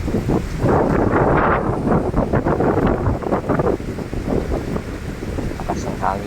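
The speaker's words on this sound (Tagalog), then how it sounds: "Lakas ang hangin guys, no?" Strong wind buffets the microphone during heavy rain, a loud, continuous rushing roar with gusty surges throughout, while a person talks over it.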